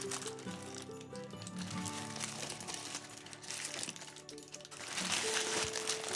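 Foil crinkling and crumpling close up as a baked, clove-studded glazed swede is unwrapped, a continuous rustle that swells louder toward the end, with music playing underneath.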